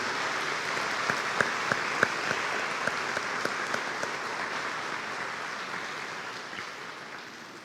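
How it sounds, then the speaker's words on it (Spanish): Steady, strong applause fills a hall at a University of El Salvador honorary doctorate ceremony. A few sharp individual claps stand out early, then the sound slowly fades. "para quien pido un fuerte aplauso"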